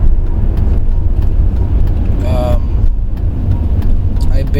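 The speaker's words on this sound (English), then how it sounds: "this is probably a cop. He's coming pretty fast." A police car passes fast at about 1 AM, its broadband engine and road rush steady and loud, with a brief siren-like tonal sweep midway, heard from inside a car.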